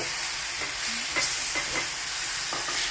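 A tea-time snack fries in hot oil and is stirred in the pan, giving a steady close sizzle broken by several scraping stirs, with no talking.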